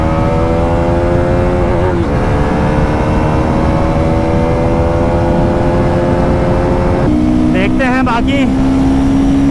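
A Bajaj Pulsar NS400Z and a Royal Enfield Guerrilla 450 accelerating hard side by side, a loud continuous engine drone with rising tones and a gear shift near the end, with someone talking over it.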